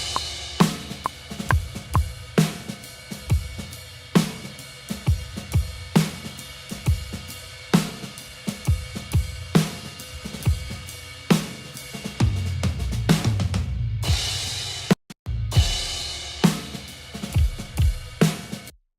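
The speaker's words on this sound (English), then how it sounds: "I spent a bunch of time layering up the snares and the kicks." Punchy layered kick and snare drum samples repeat in a steady beat, thick and layered, with a short dropout near the end before the pattern resumes.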